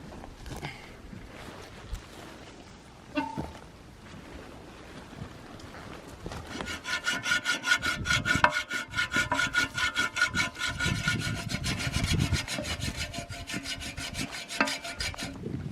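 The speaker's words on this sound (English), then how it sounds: "Just finished. Saw through that." Wood from a felled tree being sawn through while making a flagpole at a cabin, quiet handling at first, then a long run of steady rhythmic rasping strokes, close and fairly loud, with no talking.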